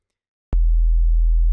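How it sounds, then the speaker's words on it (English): Serum synthesizer sub bass built from pure sine waves on both oscillators: a deep, steady, powerful low tone starting abruptly after a short silence and holding alone at constant loudness. "You should be getting that very powerful sub."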